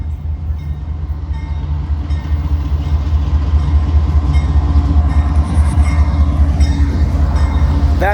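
A train rolls past on railroad tracks close by, a loud, steady rumble that swells after a few seconds, with a high metallic wheel squeal rising near the end.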